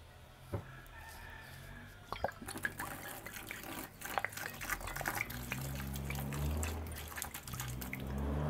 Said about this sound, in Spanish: Le vamos a agregar agua.